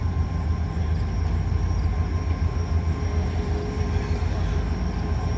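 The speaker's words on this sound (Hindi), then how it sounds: "48 डाउन रहमान बाबा एक्सप्रेस अप्रोच कर रही है।" Rehman Baba Express led by an HGMU30 diesel locomotive approaching a Pakistani railway station, a steady loud rumble of engine and rolling wheels with a constant mechanical drone and no talking.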